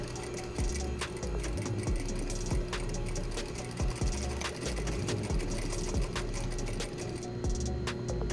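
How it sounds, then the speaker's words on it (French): Sewing machine stitching belt loops onto a pair of shorts, a steady close mechanical whir with rapid needle ticks running continuously, with brief pauses and restarts. "Donc c'est parti, on va les coudre et après on va coudre ça au short."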